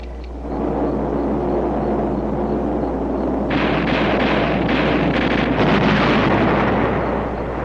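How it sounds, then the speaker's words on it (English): Heavy booming bursts of anti-aircraft flak bring down a plane, a dense continuous roar that swells louder midway and stays close and sustained, with no talk over it. "It must have been the flak when they brought the plane down."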